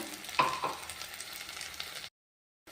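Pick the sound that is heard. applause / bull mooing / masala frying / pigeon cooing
masala frying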